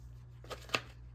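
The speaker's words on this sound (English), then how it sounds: "I'm throwing them around, just trying to shuffle them here." Tarot cards being shuffled by hand, two quick, faint papery riffles close by in a quiet room.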